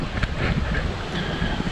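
Wind rushes and buffets steadily against the microphone while kayaking on Rollins Pond, a flatwater pond in the Saranac area, with rough, gusty noise throughout and no talk.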